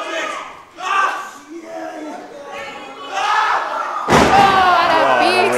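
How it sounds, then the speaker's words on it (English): A wrestling crowd in a Cardiff church hall, a URC church, shouting and cheering in surging waves that swell into a loud roar near the end, with thuds from the ring mixed in. "Cardiff crowd here behind Mark Andrews"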